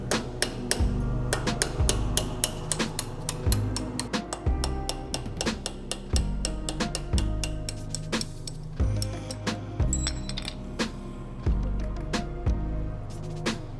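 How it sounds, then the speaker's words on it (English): Repeated sharp metal hammer strikes on a punch tool during a brake pad change on a car, in a steady rhythm, close and loud, with quick ringing taps between the heavier blows. "Get the punch tool, place it right here, there, and start hammering."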